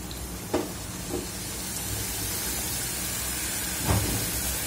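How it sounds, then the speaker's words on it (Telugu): Jackfruit pieces deep frying in hot oil give a steady, dense sizzle and hiss throughout, close and fairly loud, with a few faint knocks from the pan. "ఆయిల్ హీట్ అయింది కదండి ఇప్పుడు మనం ఇవి వేసుకొని ఫ్రై చేసుకుందాం"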